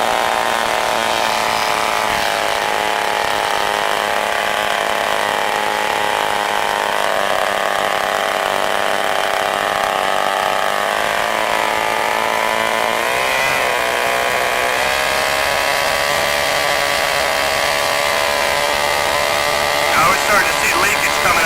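K&B Sportster 20 model glow engine running outdoors on its first runs, a loud, high-pitched buzzing whine held steadily for about twenty seconds with slight shifts in pitch, close to the microphone.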